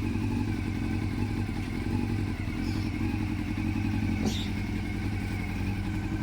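A classic Honda Super Four 400cc motorcycle with an aftermarket exhaust idles steadily and close up, with a deep, continuous throbbing burble and a couple of faint clicks over the drone.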